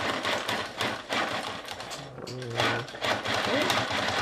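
A sewing machine stitches fabric with the pedal held down, giving a close, rapid mechanical whir and clatter under a person talking, with a brief slower patch in the middle.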